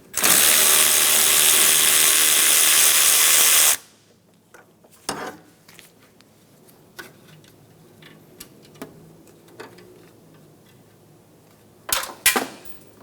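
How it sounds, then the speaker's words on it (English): A 10mm socket ratchet loosens the condenser line bolt behind the radiator support on the passenger side of a 2007-2012 Nissan Altima. A loud burst of steady noise opens, then sparse, crisp ratchet clicks follow in quiet. "remove the condenser line bolt using a 10mm socket"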